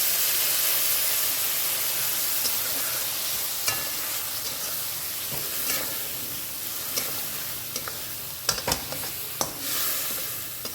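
Moringa drumsticks and potatoes fry with a steady sizzle and constant hiss, punctuated by occasional scraping clatters of a utensil stirring in the pan.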